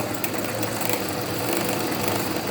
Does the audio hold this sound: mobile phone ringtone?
no